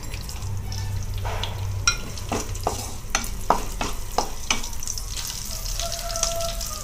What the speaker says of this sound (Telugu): మసాలా దినుసులు, పచ్చిమిర్చి బాగా వేగాలి